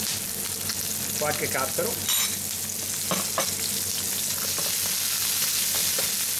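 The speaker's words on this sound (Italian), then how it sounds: "Facciamo rosolare il tutto." Sea bream sizzling and browning in a hot pan with taggiasca olives and capers, steady frying hiss with occasional stirring scrapes, a voice briefly speaking over it.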